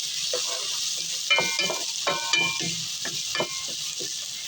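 Garlic and ginger sizzle in hot oil while being sautéed for chicken adobo, a steady bright frying hiss broken by several scraping stir strokes of a utensil against the pan, close and fairly loud, with no talking.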